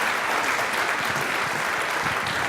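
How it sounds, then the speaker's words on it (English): Thick, steady applause from a conference audience thanking a metrics panel, many hands clapping at once in a continuous roar without a break. "Please, can everyone give them a round of applause?"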